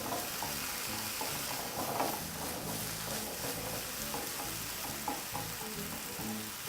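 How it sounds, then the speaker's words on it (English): Vegetables and wine sizzle and fry steadily in a pan while being stirred, a close, continuous crackle with soft scraping of the stirring utensil throughout. "you want to just let that wine cook down"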